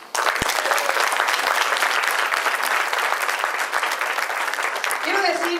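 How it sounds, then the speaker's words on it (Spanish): A conference crowd at a Latina women's event gives sustained loud applause, dense even clapping filling the room for several seconds. "Date un buen aplauso para ti."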